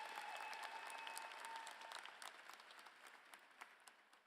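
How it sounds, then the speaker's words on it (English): Applause from a college commencement crowd for the NCC choir, a full round of clapping that gradually tapers into scattered claps, with a faint high tone lingering early on. "Let's give another round of applause for the NCC choir."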